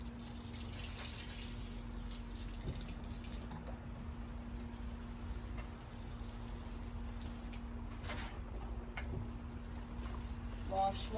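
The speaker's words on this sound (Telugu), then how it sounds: "నీళ్ళు వేస్తున్నా." Water splashes from a tap or hose onto a betel leaf plant, a steady, low trickle and spatter under a constant hum, with a few brief spoken words.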